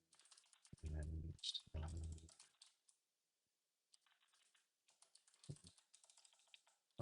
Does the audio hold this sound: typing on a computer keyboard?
yes